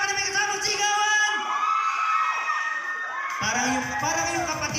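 A crowd at a Mother's Day gathering in a Santa Rosa mall cheers, whoops and shouts, loud and sustained with excited voices and children's yells throughout.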